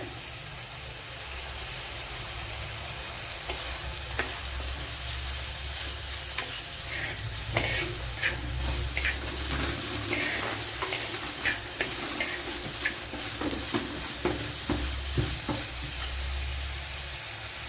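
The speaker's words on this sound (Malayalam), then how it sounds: "ഇപ്പോഴിവിടെ കൊച്ചുള്ളിയൊക്കെ ഒന്ന് വഴണ്ട് വന്നിട്ടുണ്ട്." Shallots with curry leaves sauté in a pan for a Kerala dried mackerel curry, under a steady sizzle. A spoon scrapes and stirs at irregular intervals throughout, close by, with no talking.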